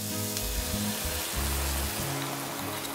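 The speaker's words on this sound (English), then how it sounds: "I'm now gonna add some white wine." White wine poured into a hot pan of sizzling mushrooms and vegetables, giving a loud, steady hiss and bubbling sizzle that holds throughout over a low background hum.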